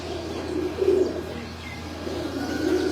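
Soft, low cooing from a teddy-eyed female pigeon, a mother bird, in a breeder's loft, two short coo phrases near the mic over a steady low background hum.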